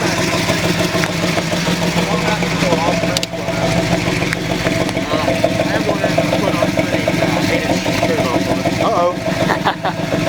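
A 1972 Swinger's engine rumbles through its mufflers at idle, a steady close low burble with occasional blips, while people talk over it.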